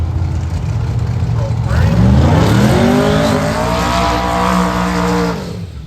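An Outlaw Pro Mod drag race car launches at London Dragway, its engine roaring loud with a sweeping rise in pitch, sustained for several seconds before tailing off.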